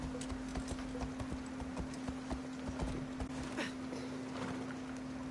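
Horse hooves clip-clopping in the video game Assassin's Creed Shadows, a steady rhythmic run of hoofbeats with a constant low hum beneath, moderately loud and continuous without speech.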